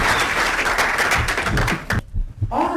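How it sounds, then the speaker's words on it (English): An audience gives Victor a round of applause, loud close clapping that holds steady, then cuts off abruptly before a voice starts speaking. "Round of applause for Victor."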